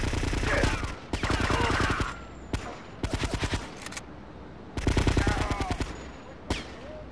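Automatic gunfire in the video game GTA Vice City Stories, loud rapid bursts of shots broken by short pauses and a few single cracks, with music or game sound beneath.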